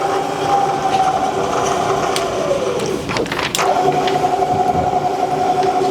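A Bridgeport Series I vertical milling machine runs with a steady mechanical whine and hum, the pitch sweeping down midway as it is shifted into low gear and then settling back to a constant drone, close by.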